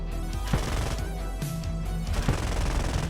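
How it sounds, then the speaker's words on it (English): Rapid cannon fire from an F-5 jet in War Thunder, a continuous loud stream of gunfire bursts over a steady engine drone, with a few heavier impacts mixed in. "I'm still shooting him because he could put out that fire"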